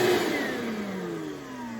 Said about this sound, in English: now you have a remote control to turn your vacuum on when you want it